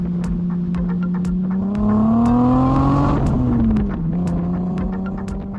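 A BMW 635 CSi coupe with an inline-six engine drives steadily, its droning hum rising in pitch as it accelerates and then easing back, with a continuous loud tone and no talking.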